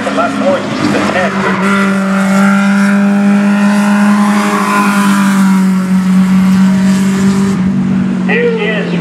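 A ministock race car lapping a short track on a record attempt, its engine note a sustained buzzing drone that rises and holds, loud and close, with a voice talking over it.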